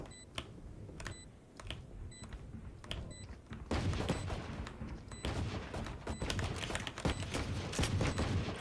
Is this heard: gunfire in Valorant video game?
yes